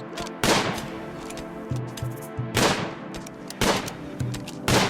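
Gunfire from the colony-sim game RimWorld: several loud bursts of rapid shots, each a sharp crackling volley, sounding at roughly one-second intervals with softer game clicks between them.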